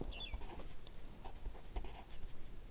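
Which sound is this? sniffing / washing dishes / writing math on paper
writing math on paper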